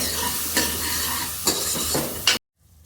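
Food fries in a pan with turmeric, a close steady sizzle broken by several scraping stirs over about two seconds before stopping abruptly.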